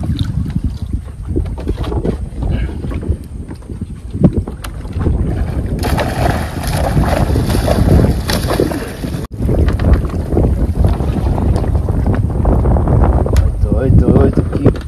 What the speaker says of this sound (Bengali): হ্যাঁ হাওয়া প্রচুর, হাওয়া প্রচুর হাওয়া